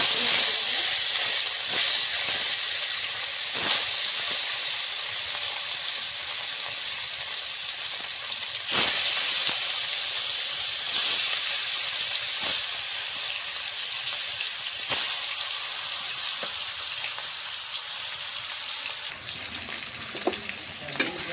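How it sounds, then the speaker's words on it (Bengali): Marinated fish frying in hot oil, a steady close sizzle and hiss running throughout with occasional louder pops and crackles, no voices. "তেলটা গরম হয়ে গেছে, মেখে রাখা"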